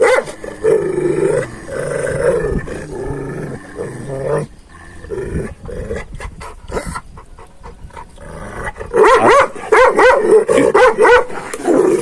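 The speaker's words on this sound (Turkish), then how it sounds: "bu Bozo yaşlı bir köpek değil. Ama çok asabi sinirli" An agitated dog growls low and barks in repeated bursts, close by, with a louder flurry of barking near the end.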